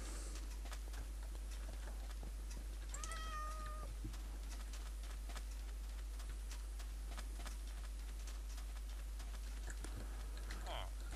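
A cat in Minecraft gives a single clear meow partway through, set against steady low game ambience, scattered clicks and keyboard-like taps.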